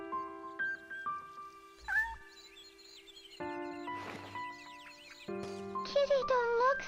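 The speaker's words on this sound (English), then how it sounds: "Kitty don't look so good." Cat meows in the Shenmue HD video game: a few short tonal mews rise and fall among game music and character voices, fairly close and moderate in level.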